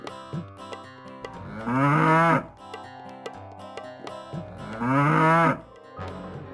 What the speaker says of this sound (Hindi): गाय फिर से रंभाने लगती है